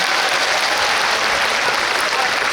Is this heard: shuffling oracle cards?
no